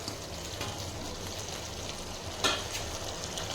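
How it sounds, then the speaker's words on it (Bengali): Chicken pieces dropped into hot chilli chicken sauce in a pan, giving a steady close sizzle with a brief louder crackle burst midway, no voices. "তারপর আমি চিকেনগুলো সব অ্যাড করে দিচ্ছি।"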